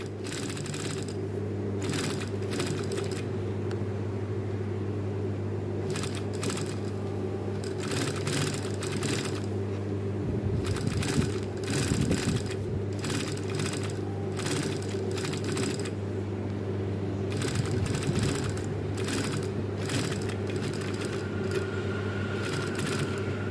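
A sewing machine stitches fabric for a stand-up collar, giving a steady low hum broken by repeated rhythmic clicking bursts of the needle running, close and continuous throughout.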